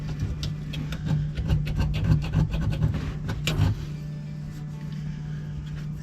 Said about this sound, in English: I'm just using my knife to clean up the edge, the outlet here of the sink, get some of that silicone off it.